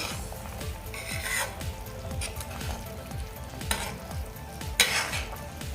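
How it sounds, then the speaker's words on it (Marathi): Cauliflower and pea kofta being stirred into gravy in a pan, with steady frying sizzle and a string of scraping strokes from the spoon, plus a few louder clinks against the pan; no talking. "आता हे फक्त जरा व्यवस्थित आपण मिक्स करून घेऊया ग्रेव्हीसोबत"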